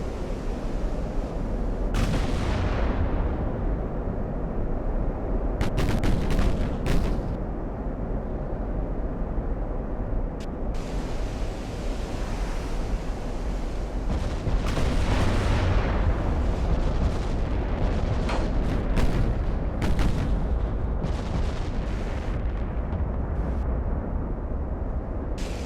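Naval guns boom repeatedly in the Ultimate Admiral: Dreadnoughts warship game, heavy broadband blasts recurring every few seconds over a constant low rumble of battle, loud and close with no talking.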